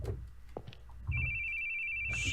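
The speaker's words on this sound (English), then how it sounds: "Shut up, phone!" A telephone in a horror video game rings with a steady electronic trill that starts partway through, preceded by quiet low rumbles and small clicks.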